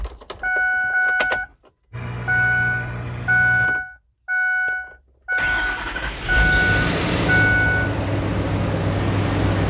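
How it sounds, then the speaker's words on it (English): A car engine idles fast and steady right after its PCM was reset, a continuous close hum broken by brief gaps and joined by intermittent electronic beeping tones. "Immediately quite a fast idle."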